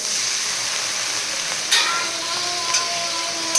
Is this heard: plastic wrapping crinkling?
no